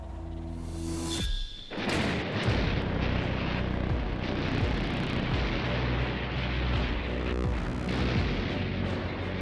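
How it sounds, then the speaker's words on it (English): Allied ships and aircraft bombard German coastal defences, dugouts and pillboxes: a dense, continuous roar of heavy blasts and rumbling fire that fills the whole stretch, dipping briefly before surging back at full loudness. "Allied ships and aircraft bombard the coastal defences, blasting away at German dugouts and pillboxes"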